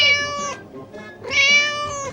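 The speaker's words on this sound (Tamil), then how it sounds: "ஓ பூனையா?" A house cat gives two loud, close meows, each a drawn-out, bright, tonal call, with a short pause between them.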